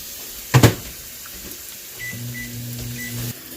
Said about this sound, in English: I am going to heat up in the microwave a little so I can cut it